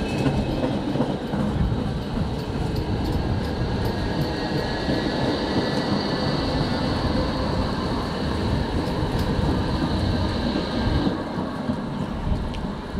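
A train rolls past in Durlach with a continuous, moderately distant rumble and rail noise that holds steady throughout, then eases slightly near the end.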